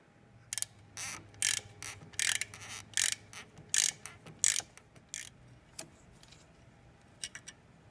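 A ratchet wrench loosens the 10mm MAP sensor bolt on a Fiero GT intake manifold, a series of close, loud clicking ratchet bursts in uneven strokes, tapering to a few lighter clicks.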